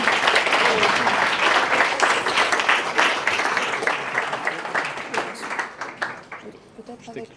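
An audience at the Positive Awards 2024 ceremony applauds the Bayard Média Développement ad sales team: dense, loud clapping that fills the room, then thins out and fades toward the end.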